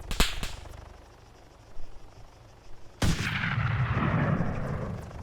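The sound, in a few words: sniper rifle shot in video game ARMA 3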